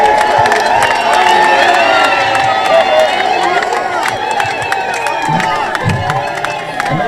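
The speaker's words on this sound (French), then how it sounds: "Applaudissons." An outdoor audience at a factory foundation-stone ceremony in Nkamba claps and cheers loudly for choir members, a dense, continuous crowd roar with shouts and a steady wash of applause.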